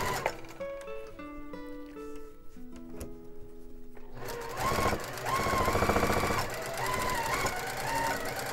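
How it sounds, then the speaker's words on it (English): A sewing machine whirs in rapid stitching bursts along the teeth of a zipper on a pillow cover, starting with scattered mechanical clicks and tones, then running steadily and loud up close. "I'm making sure that I have my sewing machine foot is running right along the teeth of the zipper"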